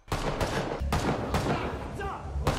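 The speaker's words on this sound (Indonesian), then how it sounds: "Tembakan terdengar." Several sharp gunshots crack out one after another over a dense, noisy background, each blast loud and close.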